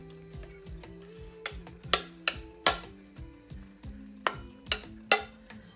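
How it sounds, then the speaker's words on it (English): Sausages and other ingredients being stirred together in a one-pot meal in a pan, with a low steady sizzle under a series of sharp utensil scrapes and clinks against the pan, irregular and close. "I'm just going to stir all this up."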